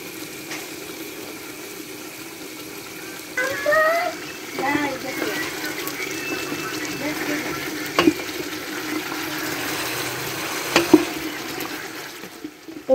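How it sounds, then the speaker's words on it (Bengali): Meat braising with spices in a pot for khichuri, giving a soft steady sizzle and frying hiss with occasional stirring clatter, fairly close and moderate in level, with a bright stir scrape around the middle. "খিচুড়ির জন্য মাংস কষানো হচ্ছে মশলা দিয়ে"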